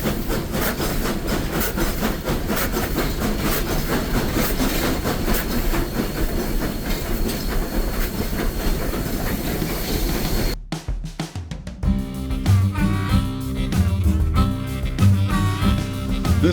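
A train led by a single locomotive runs on the railroad between Rockwood and Tank Creek, a loud continuous rumble with rhythmic clatter, then cuts abruptly to a quieter, more distant rolling sound with hissing.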